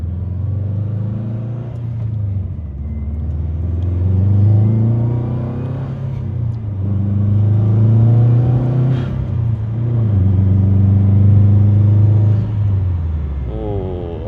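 A manual project car engine revs repeatedly through rising and falling pulls, turbo whoosh audible over a loud, close rumble, several swells of acceleration with brief dips between shifts.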